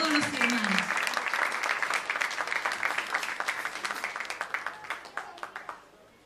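Warm audience applause at an evening Christian music festival in Coquimbo, Chile: a dense burst of clapping that thins into scattered, separate claps as it fades, with a brief voice at the start.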